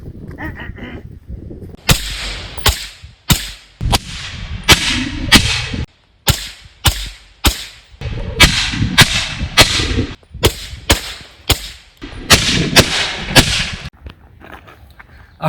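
Pistols and carbines fire into Guard Dog armor plates at a range: loud, close, sharp shots crack out in quick irregular strings, roughly twenty or more in all, with short pauses between bursts.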